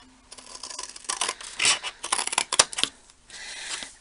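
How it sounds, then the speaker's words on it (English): Scissors snip and crunch through scored paper to cut a corner off a shadow box, a close series of rasping cuts over four seconds with no voices. "So I'm just going to cut up the score line, and then we're going to cut that corner off."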